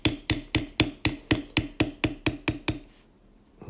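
Leather tooling with a metal beveler struck by a mallet while layering a spur strap pattern: eleven sharp, evenly spaced taps in quick rhythm, close and crisp, then a pause with no talk.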